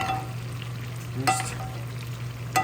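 Loud, steady sizzling of steak frying in a hot cast iron skillet, with a couple of brief clinks or scrapes and a constant low hum underneath.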